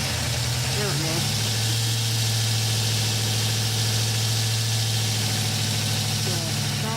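A rebuilt GM LS V8 with cylinder deactivation idles steadily and loudly, a constant low rumble with slight fluctuations as the cylinders try to deactivate, and no obvious rattles.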